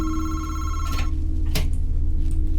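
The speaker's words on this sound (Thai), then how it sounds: "โทรศัพท์อยู่ไหนครับทุกคน" A telephone rings in a horror video game, its bell trilling steadily over a low droning ambience and fading after about a second, followed by brief thuds and clicks.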